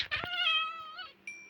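A Minecraft cat gives a single clear, drawn-out meow, close and loud with no talking, then a brief higher chirp right at the end.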